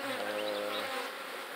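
A honeybee swarm at a hive with brood, buzzing steadily and fairly close, with a low droning hum under higher wingbeat tones and no talk.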